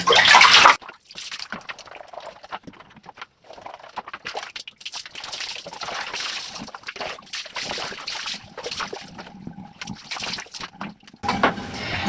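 Clothes being rinsed by hand in a basin of water give a burst of loud splashing, then softer sloshing, swishing and dripping that rise and fall irregularly at close range before another louder splash near the end.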